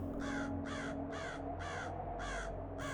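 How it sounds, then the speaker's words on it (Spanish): Six evenly spaced crow caws ring out one after another over a low steady background hum, moderately distant. "el ocasional sonido de cuervos a lo lejos"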